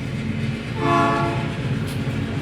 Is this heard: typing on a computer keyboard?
no